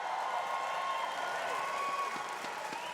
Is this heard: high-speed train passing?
no